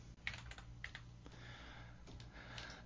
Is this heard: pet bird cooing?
no